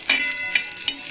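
Green chilies, garlic and curry leaves sautéing in a pan, a bright close sizzle punctuated by three quick spatula strokes over about a second.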